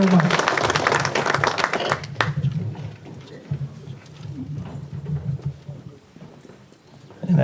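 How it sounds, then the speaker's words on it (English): A crowd at a General Vang Pao's Day celebration gives a round of applause. The clapping is brisk and fairly close for about two seconds, then quickly dies away into murmured talk and room noise. "give them all a round of applause"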